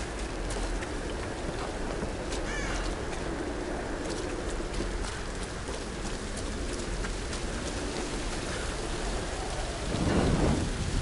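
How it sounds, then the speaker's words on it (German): Steady heavy rain and rolling thunder in the video game Tomb Raider (2013), a dense continuous downpour with a deeper rumble swelling near the end. "wie der Regen auf dem Bildschirm ist"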